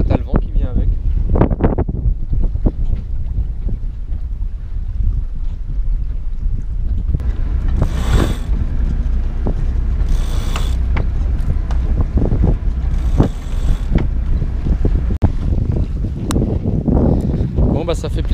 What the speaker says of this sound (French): Il y a du vent, ça pousse.